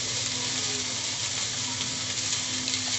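Leafy greens frying in a pan with salt, giving a steady, dense hiss of sizzling that holds evenly throughout, close and fairly loud, with no talking.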